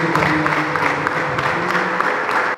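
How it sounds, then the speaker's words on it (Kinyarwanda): A church congregation applauds during an Easter-season Sunday celebration, with dense, even clapping and bright crowd noise for a few seconds before it cuts off abruptly. "Mumfashe baze duha amashyi y'impundu."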